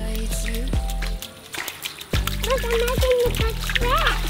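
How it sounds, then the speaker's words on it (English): A child splashes in a shallow stream, with repeated wet slaps and drips close by, while someone talks and cries out over the water sounds. "You're making a big splash."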